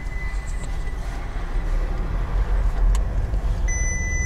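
Heavy road traffic on a highway near Maikuduk, with many cars passing in a continuous broad rumble and no voices.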